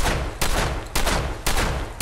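Gunfire from the video game Fallout 4 rings out as four loud, sharp shots at a steady rhythm, each one cracking sharply and decaying into the next.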